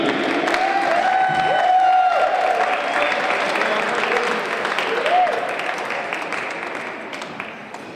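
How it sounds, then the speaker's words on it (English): Audience applause at the Commonwealth Fencing Championships 2022 podium ceremony, steady and fairly loud, mixed with a few cheers and crowd noise, with a voice over a PA speaking over it before the clapping fades toward the end. "And an extra round of applause for Damien Neal on his birthday."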